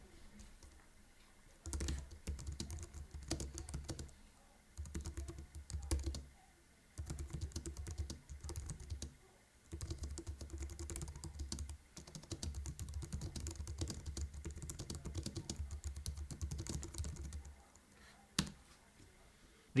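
Typing on a Logitech MX Keys Mechanical keyboard, quiet bursts of rapid key clicks separated by short pauses, close and soft against a near-silent background.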